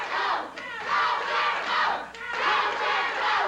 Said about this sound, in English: The crowd's divided. Some are yelling, go, Bill, go. Some are yelling, go, Jerry, go.